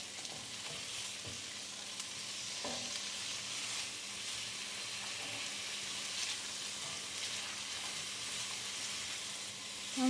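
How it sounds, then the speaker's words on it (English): Broccoli and carrots hit hot infused oil in a pan for a stir fry, producing a steady hissing sizzle with occasional clinks of stirring, fairly quiet and continuous throughout. "I'm going to add in now my broccoli and carrots."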